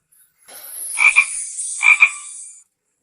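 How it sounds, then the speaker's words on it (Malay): A small frog croaks twice in close succession, each croak a loud, near, rasping burst with no voices or other sounds around it. "Katak kecil."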